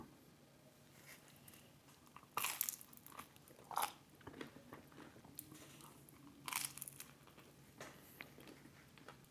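Someone eats a Domino's spicy chicken bacon ranch pizza with ranch dip. A few crisp, close bites and crunches land between quieter stretches of chewing, and no one speaks.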